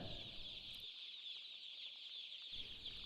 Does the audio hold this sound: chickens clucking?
yes